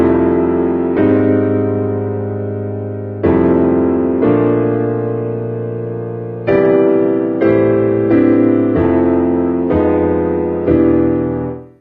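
Block chords played on a keyboard's piano patch: seven or eight sustained chords struck one after another at a steady, unhurried pace, each ringing out and slowly decaying before the next, loud and close with no talking.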